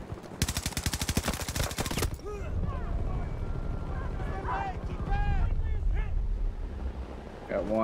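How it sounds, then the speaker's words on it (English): Rapid automatic gunfire from Battlefield 2042 rattles loudly for about two seconds, then gives way to a dense battlefield mix of scattered shots, whistling effects and rumbling engines, with voices talking underneath. "There's people shooting together too."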